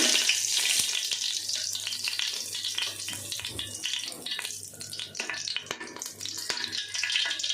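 Cinnamon, cloves and cardamom sizzling in hot oil, a close uneven crackling sizzle with scattered sharp pops and spits over a faint low hum.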